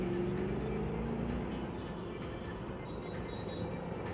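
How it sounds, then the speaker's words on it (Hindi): Ford Mustang GT with a 5-litre V8 producing 401 PS, its engine holding a steady, loud low rumble throughout with a faint rising whine near the start. "इसमें 5 लीटर का V8 इंजन लगा है और ये इंजन 401 PS पावर जनरेट करता है"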